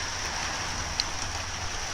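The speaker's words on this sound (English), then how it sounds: "because it was raining earlier. And it still kind of is." Light rain falling steadily outdoors amid trees after an earlier storm, a soft even hiss with one faint drip standing out, no voices.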